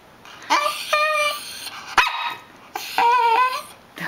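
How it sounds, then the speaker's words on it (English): A female pet dog indoors gives three close, loud bursts of barks and whiny yips, separated by brief pauses. "Don't bark."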